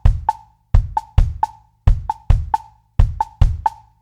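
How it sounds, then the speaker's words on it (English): A drum pattern grouped in fives, kick drum and woodblock alternating in sparse, clipped hits with short gaps where the fifth beat is left silent, played dry and close with no talking. "and the 4 others are played with kick and woodblock."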